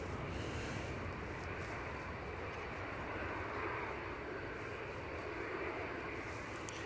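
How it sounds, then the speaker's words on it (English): A Ryanair Boeing 737-800 rolls for takeoff at Edinburgh Airport on a windy day, its jet engines a steady, distant broadband roar held at an even level throughout. "We've got Ryanair ready to roll."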